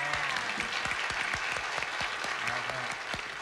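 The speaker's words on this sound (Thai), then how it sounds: "ขอเสียงปรบมือคูเลสค่ะ" A crowd applauds at a live stage show, a continuous wash of clapping that holds steady at moderate volume for the whole stretch.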